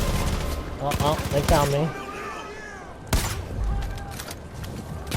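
Bursts of Far Cry 5 gunfire, including sharp sniper shots, crack out at an enemy outpost near a helicopter pad, loud and close, with someone talking over the shooting between the reports.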